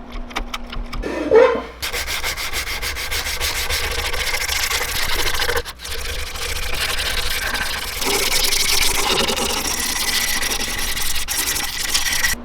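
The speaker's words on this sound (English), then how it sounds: "There's a lot of sanding in lure making." Continuous close-up abrasive rubbing of sandpaper worked steadily over a small hard fishing lure, with a brief pause midway.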